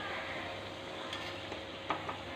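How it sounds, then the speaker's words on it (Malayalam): Papadam sizzling in hot oil on a home stove, a steady soft bubbling hiss with a few small pops and crackles, quiet and close, with no talking. "പപ്പടം വറുത്തിട്ടുണ്ട്."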